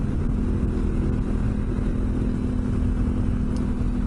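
A Honda Africa Twin motorcycle engine heard from a rider's helmet microphone while riding in the Australian bush, a steady loud droning rumble with constant wind noise, no talking.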